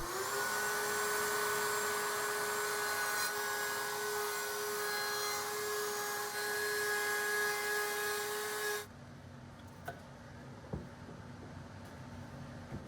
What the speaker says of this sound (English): just using a 1/4-inch router bit